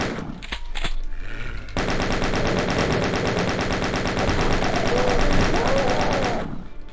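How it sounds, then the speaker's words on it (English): Chain gun firing continuously in the 1993 DOS game Doom, a dense rapid stream of gunshots sustained for several seconds after a few brief opening shots, loud and close. "Alright, we're down to the chain gun."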